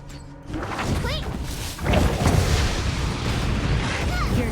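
A turret is destroyed in the mobile game Honor of Kings, a loud booming explosion with thuds and bursts in the middle of busy battle noise, and a voice speaks over it.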